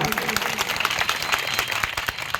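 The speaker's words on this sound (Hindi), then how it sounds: "एक बार ताली बजा के हौसला बढ़ा दीजिए" A crowd at a Jashn-e-Milad felicitation ceremony claps together, a brief steady patter of many hands close by with a murmur of voices underneath.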